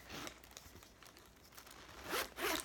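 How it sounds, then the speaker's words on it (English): A zipper on a Lanvin handbag is pulled open in a few quick, raspy bursts, close up, with the longest, loudest pulls near the end and no talking. "The zipper opens pretty easily."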